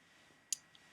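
A single sharp, quiet mouse click, placing a MIDI note, over a faint room hush.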